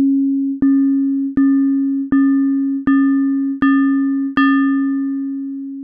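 A synthesized sine tone with frequency modulation applied at the start, a steady pitch interrupted by seven short evenly spaced chirp-like blips that add brighter overtones, then a sustained tone fading slowly.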